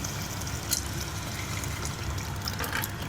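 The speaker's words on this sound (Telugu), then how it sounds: "వాటర్ వేసుకుందాం." Water gushes and splashes into a cooking pot of pappu charu, a steady liquid rush lasting a few seconds with no talking.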